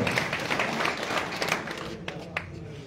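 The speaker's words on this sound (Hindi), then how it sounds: "जोरदार तालियां में, जोरदार तालियां।" A crowd at a large rural Rajput village gathering claps to welcome the state agriculture minister, dense applause that thins to a few scattered claps toward the end, with some voices mixed in.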